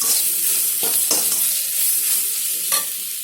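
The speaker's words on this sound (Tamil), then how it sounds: "சால்ட் ஆட் பண்ணி வச்சு மிக்ஸ் பண்ணிக்கலாம்." Salt is stirred into kurma masala frying in oil for idli kurma, producing a loud, continuous sizzle broken by several sharp scraping strokes of a spoon against the pan, with no talking.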